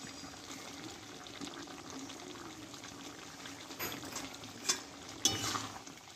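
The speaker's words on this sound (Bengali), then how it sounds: "এবার এখানে গন্ধরাজ লেবুটা আমি ভালোভাবে চিপিয়ে দেব।" Gondhoraj lemon squeezed over a finished drumstick curry, faint soft trickles and a few small wet splashes near the end over a quiet kitchen background.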